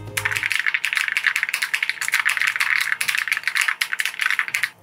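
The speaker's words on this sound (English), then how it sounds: "Let's do a typing ASMR." A white Alice-layout ergonomic keyboard is typed on at a quick, even pace, crisp close clicks and clacks running continuously with brief pauses, no talking.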